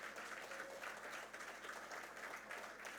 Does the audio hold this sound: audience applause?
yes